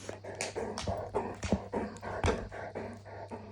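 A guide dog whimpers and yips for its ball in a string of short, high, pleading cries over a quiet indoor background, close to the listener, with no speech.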